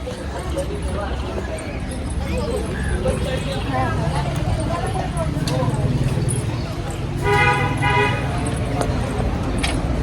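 A car horn sounds in a short burst of honks near the end, over steady road and engine noise, with people talking and some clip-clop-like knocking in the background.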